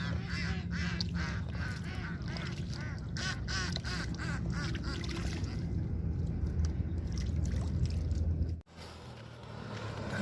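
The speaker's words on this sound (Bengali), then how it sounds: "আমাদের পাশে আছে বতকের খামার।" Ducks from a nearby duck farm quack in a loud, busy chorus close at hand, overlapping calls running continuously before an abrupt cut near the end leaves a quieter low rumble.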